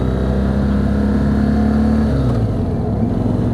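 Engine of a BMW GS motorcycle held at a steady drone while a new rider searches for the clutch biting point, then pitching down slightly as it begins pulling away, heard up close with no talking.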